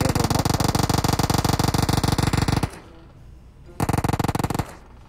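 Rapid automatic gunfire in a mobile shooter game, loud dense bursts with a pause in the middle before a second shorter burst.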